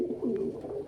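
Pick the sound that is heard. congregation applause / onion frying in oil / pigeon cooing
pigeon cooing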